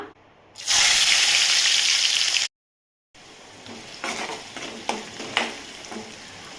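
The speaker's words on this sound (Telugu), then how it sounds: "ఆనియన్స్ అయితే వేగుతున్నాయి" Onions fry in a pan of oil for a tamarind-style stew with potato-like tubers, a loud steady sizzle for a couple of seconds, a brief gap, then softer frying broken by several sharp stirring scrapes and clinks.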